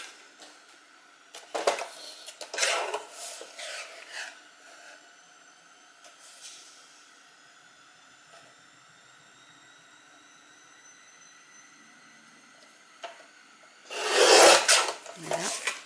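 Raspy cutting strokes on a piece being shaped for a map: bursts near the start, a long quiet stretch with faint hum, then a loud close scraping burst near the end, with no talking.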